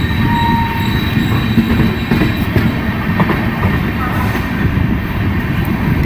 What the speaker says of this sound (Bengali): তিন নম্বর প্ল্যাটফর্মে ঢুকলো আমাদের এই ট্রেন